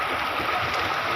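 Steady rushing flow of the Odjongan River in Abuyog, Leyte, a broad, even wash of water noise close by, with no voices heard.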